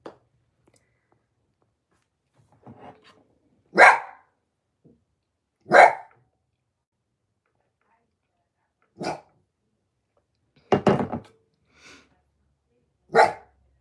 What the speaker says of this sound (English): I'm so happy to see my dog barking